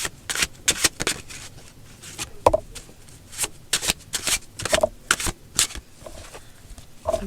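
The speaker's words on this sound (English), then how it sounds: "I'm gonna pull one more card." A deck of oracle cards is shuffled by hand in repeated sharp riffling bursts, close and crisp, with brief pauses between runs.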